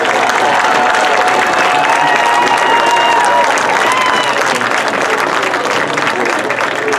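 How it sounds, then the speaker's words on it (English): A crowd at a Cassville vs Lamar sporting event claps and cheers loudly and continuously, a thick roar of applause with voices rising within it. "let's give them a great round of applause."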